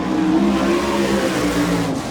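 A USAC National Sprint Car from Jones Racing Group with an Engler engine and Eagle chassis roars around the Rossburg dirt track on a qualifying lap, its engine note rising and falling loudly throughout.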